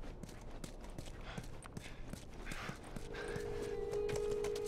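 Horse hooves clip-clop at a steady trot in The Last of Us Remastered, soft and somewhat distant, with a faint ambient hum and a brief tonal sound near the end.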